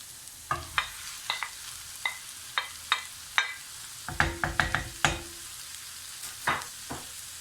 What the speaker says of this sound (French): on va prendre notre viande hachée. Et on va faire cuire tout ça.